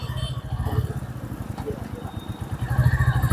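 A 2025 Royal Enfield Bullet Standard 350 motorcycle running on the road, its steady low single-cylinder thump continuing under someone talking throughout.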